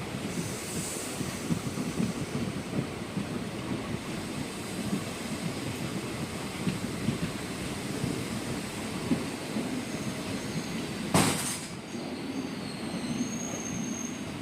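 A passenger train rolls into Melavittan station on the Coimbatore to Tuticorin route, a steady heavy rumble of wheels on rails with one brief high squeal or horn burst near the end, heard from aboard with no talking.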